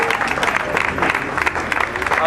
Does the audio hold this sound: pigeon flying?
no